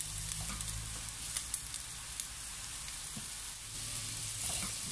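Ingredients for an elbow macaroni soup with celery sizzle and simmer in a pot while being stirred, giving a steady close-up frying crackle with a few soft clinks, and no voices.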